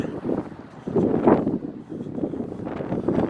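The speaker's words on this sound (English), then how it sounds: "The wind is starting to blow, so it's probably going to be kind of windy sounding." Low, gusty rumble of wind buffeting the microphone, rising and falling in uneven bursts.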